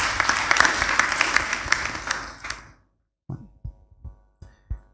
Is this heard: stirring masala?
no